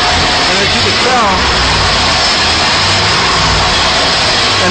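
A Chevrolet V8 engine running on a side-draft carburetor from a 1979 MG Midget, a loud, constant, dense roar close by with no clear change across the stretch.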